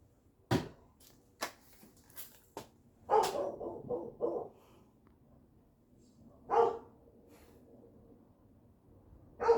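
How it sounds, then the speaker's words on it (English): A dog barks at passers-by walking along an alley, giving several sharp, separated barks and short clusters at moderate distance, alone with no talking. "my dog's barking at people walking up and down the alley"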